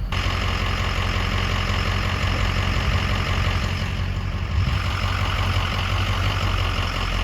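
A Ford 6.0 Powerstroke diesel truck with a cracked injector drives along, its engine a steady, heavy low drone heard from inside the cab, continuous and unbroken with no speech.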